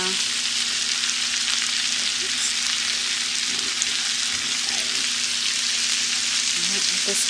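Cabbage sizzles and fries steadily in a hot pan as it cooks down, a continuous close crackling hiss with faint stirring, no talk.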